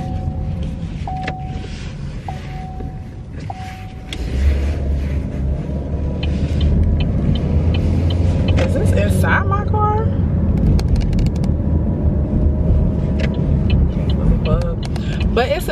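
Car driving on the road on the way to a market, a steady low engine and tire rumble that swells after a few seconds, with indicator-like chimes early on and someone talking over it.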